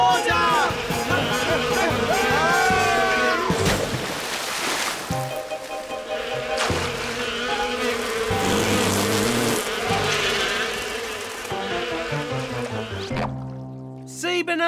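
Buzzing bees in a children's cartoon, a steady insect drone under busy music and voices, loud and close throughout.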